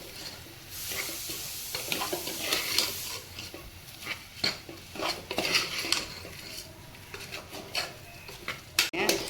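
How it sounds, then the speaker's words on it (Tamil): A spoon scrapes and clinks against a pan as paruppu sadham (lentil rice) is stirred, with irregular metallic knocks over a soft, steady sizzle close by. "இப்போ இதை நல்லா கிளறிடுறேன்"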